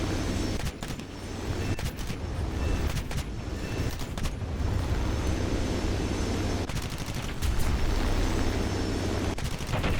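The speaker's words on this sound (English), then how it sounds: "Let's see if our guns actually do it." Wyvern S4 aircraft cannons fire in War Thunder during a strafing run on a convoy, dense sustained bursts over a constant engine roar, loud and close with brief breaks between volleys.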